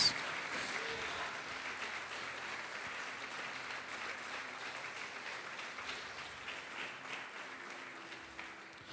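A church congregation applauds steadily throughout, a dense, even wash of clapping that holds at a consistent level from start to finish with no talking over it.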